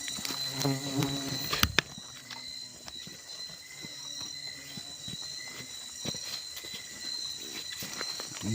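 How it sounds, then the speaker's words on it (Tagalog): Bees buzzing around a hive in a quiet bamboo forest, a continuous thin droning hum that stays steady and moderately close, with a few brief knocks near the start. "Ang daming bubuyog lang."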